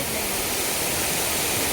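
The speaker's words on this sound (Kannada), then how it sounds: "ಇಲ್ಲಿ ನೀರು ಬೀಳ್ತುಂಟಾ?" Water falls and splashes continuously near a temple, a dense close rushing roar with no break and no speech.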